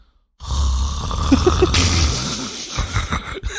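A voice imitates snoring with raspy, wheezing breaths, loud and close, followed by brief snorting gasps.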